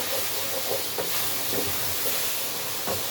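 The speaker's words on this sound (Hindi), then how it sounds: "अच्छी तरह हम इसको भून लेते हैं अभी 2-4 मिनट।" Chopped ridge gourd (turai) frying in a pan with salt and green chillies, giving a steady close sizzling hiss with faint scraping from stirring throughout.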